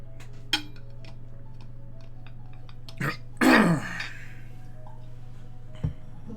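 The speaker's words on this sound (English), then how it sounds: "you get a cough or a tickle." A person clears their throat and coughs, with one harsh, rasping burst in the middle and shorter throaty sounds around it, over a steady low hum and faint ticking.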